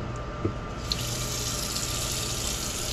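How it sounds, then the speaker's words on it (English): Fresh, cool water runs steadily from a tap into a sink while milk is readied for bottle feeding and yogurt, a constant close rushing stream with no voices. "So we're just going to go ahead and add some fresh, cool water."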